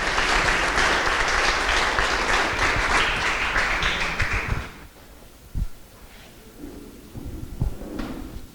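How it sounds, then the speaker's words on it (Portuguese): A church congregation claps together for about four and a half seconds, a dense, loud burst of applause that stops abruptly, followed by quiet room noise and a few scattered thumps. "Vitor Hugo, aplauda o Senhor pela vida do nosso irmão que vai estar pregando."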